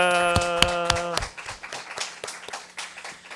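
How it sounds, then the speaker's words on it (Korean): During a recorded online church worship service over Zoom, a few participants clap for the leader team: sparse, scattered handclaps that follow a brief sustained tone and fade out unevenly. "우리 리더 팀에게 박수"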